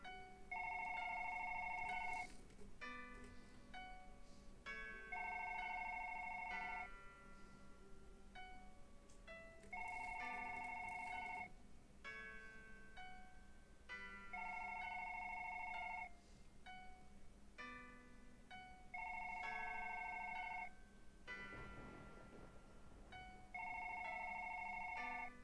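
A telephone in the One Late Night video game rings in repeated two-part electronic bursts, about six even rings spaced a few seconds apart, faint and alone against a low background hum.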